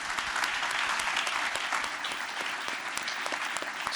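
A room of listeners gives steady, dense applause at an Oklahoma Senate District 47 debate. The clapping is even and continuous, moderately loud, with no talking over it.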